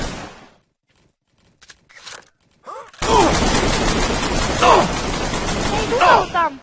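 Bursts of rapid automatic gunfire from a multiplayer shooter game, loud and dense, rattling continuously through the second half after a quieter start with a few scattered shots.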